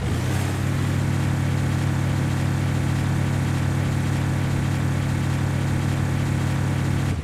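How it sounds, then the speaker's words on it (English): Truck engine in the RoadCraft video game, a steady low droning idle that repeats as a loop, loud and close, constant for several seconds with no talking. "I don't like the engine sounds in this game because they are in a loop."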